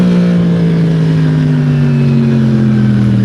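A motorcycle accelerates hard in first gear while lane splitting. Its loud, close engine note climbs steadily in pitch with no pause.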